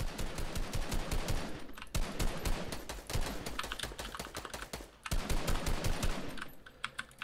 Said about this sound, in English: I don't know why you're shooting me.